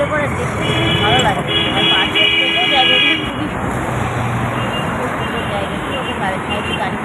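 Busy road traffic near an airport, a dense continuous wash of passing vehicles with a horn-like tone early on, heard under a person talking.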